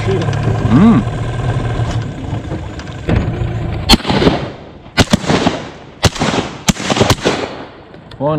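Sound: shotgun shot while duck shooting

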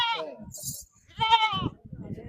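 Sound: goat bleating

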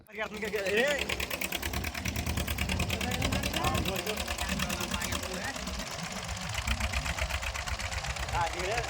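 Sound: fishermen's engine boats racing on the Godavari river

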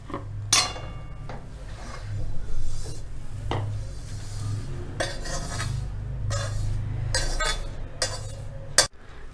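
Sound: removing roasted flattened rice (poha) from the pan

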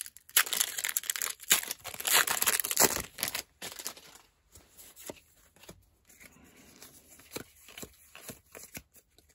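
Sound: Pokemon Evolving Skies booster pack wrappers being opened

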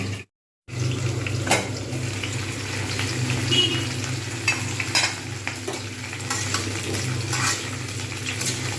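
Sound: beans frying in a pan

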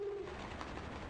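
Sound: pigeon cooing in video game Yuuyami Doori Tankentai

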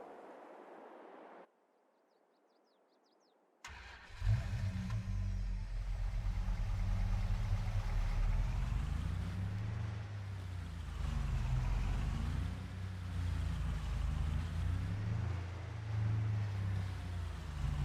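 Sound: car with a trailer manoeuvring and reversing

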